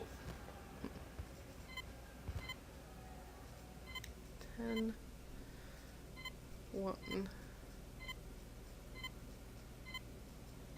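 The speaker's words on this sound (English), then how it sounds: "Beep, beep." Short electronic beeps sound as a code sequence is entered in the Zork Nemesis video game, with a few brief tones under a voice over a steady background hum.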